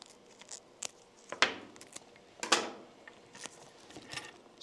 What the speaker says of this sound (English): just cut off a couple of pieces